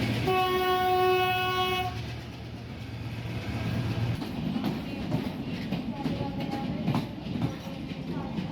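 A passenger train on the route toward Sri Pada blasts a long, loud horn, then rumbles on with steady rolling noise and faint clatter, heard close by.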